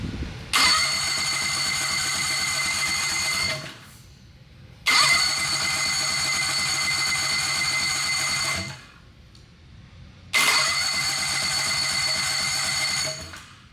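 A turbocharged, fuel-injected Harbor Freight 670 V-twin engine starts three times, each run lasting about three seconds at a steady rough roar before cutting out, with brief quiet gaps between.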